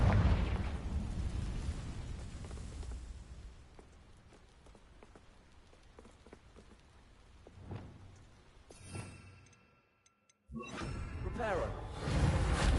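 A Confringo fire spell goes off in Hogwarts Legacy, a sharp crackling blast that fades into a hiss, with other game effects and a pause of silence around it.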